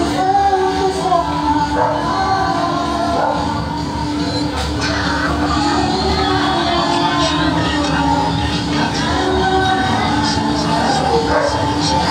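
A dog yips and whimpers close by amid a busy, noisy background with people talking.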